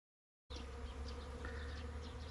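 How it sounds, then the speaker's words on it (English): A swarm of honey bees in a tree, buzzing in a dense, continuous outdoor drone that starts abruptly and holds steady throughout, with no voices. "these bees are moving"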